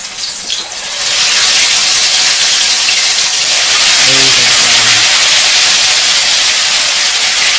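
Gluten-free corn fritters fry in very hot oil in a pan, giving a loud, steady broadband sizzle that starts after a brief quieter moment and continues throughout, with a faint voice briefly underneath.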